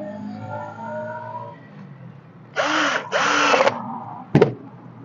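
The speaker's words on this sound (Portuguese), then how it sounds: "aqui é o pescoço, eu tô parafusando, fechando o pneu" A power drill drives screws to close up a tire being made into a goose, two sustained whirring bursts of about half a second each followed by a short sharp burst, close and loud in a quiet setting.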